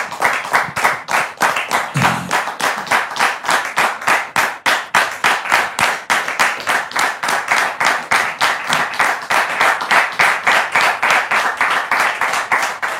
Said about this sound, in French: Public, merci de recevoir l'époux de Dame Mélissa sous vos applaudissements